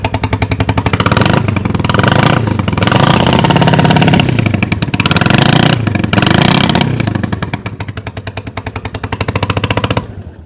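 A Honda CB360 motorcycle engine runs steadily at close range, a loud, rapid pulsing chatter with a brief throttle swell in the middle before it settles back to a steady idle and cuts off near the end.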